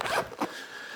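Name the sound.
zipping up a blue sling bag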